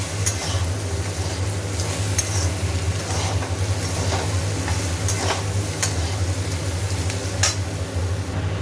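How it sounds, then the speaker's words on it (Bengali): Turmeric, cumin and salt fry in a pan with a steady, dense sizzle, broken by occasional light scrapes and taps of stirring, plus a low hum underneath throughout. "হলুদ আর জিরে নুন দিয়ে দিয়েছি আর এটা ভালো করে একটু আর একটু ভাজা হোক"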